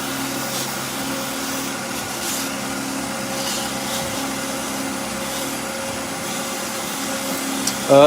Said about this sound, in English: I don't want to stop the lathe.